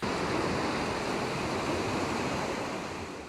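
Floodwater rushes through a creek near a washed-out bridge in Lewisville in a loud, constant roar that never lets up.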